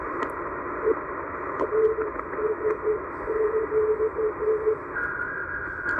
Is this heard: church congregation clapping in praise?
no